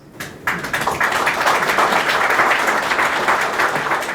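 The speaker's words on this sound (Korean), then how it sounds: "반기문 총장의 모습 큰 박수로." Audience applause at a business forum where Ban Ki-moon, former UN Secretary-General, takes the stage: after a brief quiet opening, dense clapping rises sharply and holds steady, close and full, for several seconds.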